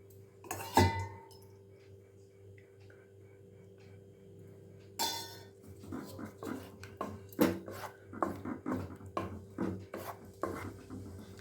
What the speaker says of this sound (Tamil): நல்லா ஒரு 2-3 நிமிஷம் நல்லா வதக்கி கொடுத்துருங்க